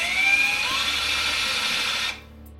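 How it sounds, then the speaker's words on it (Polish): Power drill boring a hole into the wooden handle of a Shaolin Damo cane: a loud, steady whining grind held close for about two seconds, then cutting off abruptly. "Moja rada jest taka, aby na początek nawiercić otwór wiertła"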